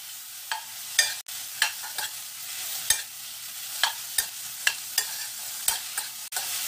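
Oysters stir-fried in perilla oil sizzle in a pan, with a steady low hiss broken by a dozen or so sharp scrapes and clacks of the utensil at an uneven rhythm, close by.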